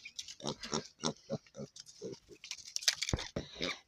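Pet pigs, two young boars and a sow, grunt and chew close by in a run of short snorts and crunching bites, with a voice talking over them.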